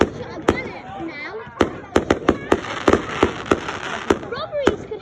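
Fireworks and firecrackers on bonfire night, a rapid run of sharp, loud bangs and pops at uneven intervals, some close together, with people's voices heard between the blasts.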